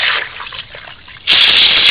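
Water pours into a turtle tank's sand substrate during rinsing, a sloshing, gushing rush that dips quieter midway, then surges back louder and steadier.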